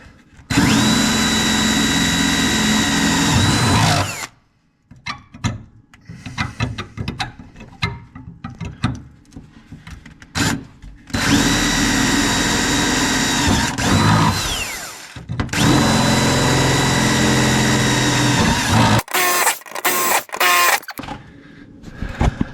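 A power drill bores rivet holes through a snowmobile track during an Arctic Cat track swap, running in long loud whining bursts with a pitch that drops as it bites, separated by short clattering pauses and a few rapid final spurts.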